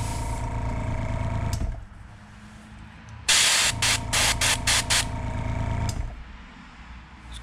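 An airbrush sprays paint onto a jerkbait lure in short, sharp hissing bursts, about six quick pulses close to the mic after a lower mechanical hum, with no talk.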